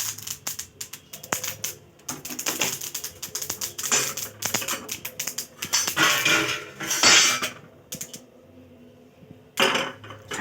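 Roasted sesame seeds are scraped from a pan onto a plate, giving repeated close metallic scrapes and clinks of a utensil against cookware in irregular bursts, with a short pause near the end before a final scrape.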